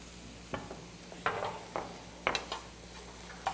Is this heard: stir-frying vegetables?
yes